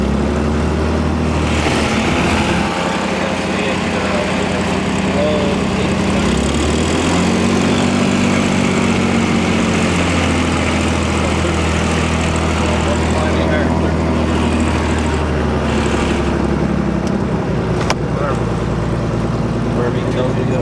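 Propeller airplane engine running at high power during takeoff at Oshkosh, a loud, constant droning roar that stays steady throughout, with voices faintly audible underneath.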